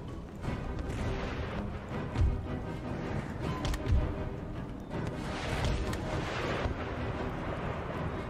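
Field artillery fires in Empire Total War, a thick continuous rumble of battle with heavy booms punching through near 2 and 4 seconds, layered with distant cannon and musket noise.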